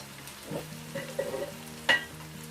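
Quarter teaspoon of turmeric powder hitting onions frying in a pan, a soft close sizzle with a stirring scrape and one brief sharper clatter near the end.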